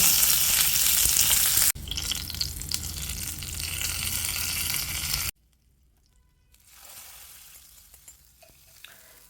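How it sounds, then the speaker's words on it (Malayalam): Mustard seeds and curry leaves tempered in hot coconut oil for an ash gourd pulinkari. A loud, dense crackling sizzle cuts off abruptly, then returns softer and more distant. "ഒരു ടേബിൾ സ്പൂൺ വെളിച്ചെണ്ണ ചൂടായി വരുമ്പോൾ അര ടീസ്പൂൺ കടുക് ചേർത്ത് പൊട്ടിക്കുക"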